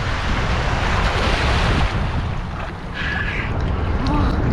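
Surf breaks continuously at Jumeira Open Beach in Dubai, a loud, steady roar of waves close by with heavy wind rumble on the microphone and a faint tone briefly rising above it.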